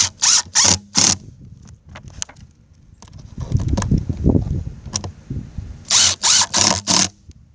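Screws being driven down into a Polylock septic riser lid with a rubber sealing ring, heard as bursts of sharp power-driver whirring at the start and end, with softer clunks and handling noise between them.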